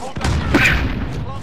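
A sniper rifle shot in the video game Call of Duty: Modern Warfare, a loud sharp report with a rumbling tail that fills the short clip, with a voice present.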